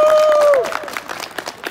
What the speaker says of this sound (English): by way of applause and cheers